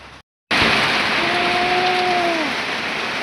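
Steady heavy rain pours down across an outdoor rural field in Thailand with dry, yellowed grass, a dense continuous hiss that starts abruptly after a brief moment of silence, with a faint whistling tone running through it.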